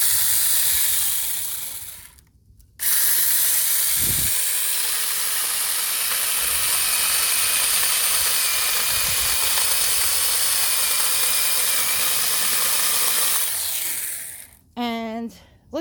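A Prodcyc mini chainsaw cuts through firewood at night, its steady high whirring buzz running for about eleven seconds after a brief start, then cutting off with a clatter at the end.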